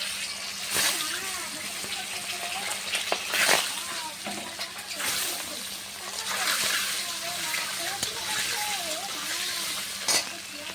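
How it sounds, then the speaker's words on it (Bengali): Duck eggs frying one by one in hot oil in a kadai, giving a bubbling, splattering sizzle with surges and clattering knocks, while a voice talks over it at times. "এক এক করে ডিমগুলো ভেজে নেবো এখন।"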